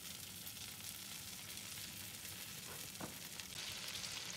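Half an onion fries in melted butter with a soft, continuous crackling sizzle that stays fairly quiet and even throughout, with no voices.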